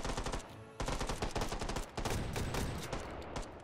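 Rapid gunfire crackles in the VR shooter Hot Dogs, Horseshoes & Hand Grenades, dense bursts of shots in quick succession with short gaps, fairly close and continuous, no talking heard.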